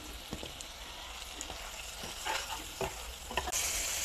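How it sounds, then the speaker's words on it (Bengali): Ground spices and tomato cooking down in a pan, a soft continuous sizzle broken by scraping strokes of a spatula and occasional knocks against the pan, fairly quiet and close with no talking. "মশলাগুলো এখন আমি নেড়ে চেড়ে কষিয়ে নিয়ে নিব"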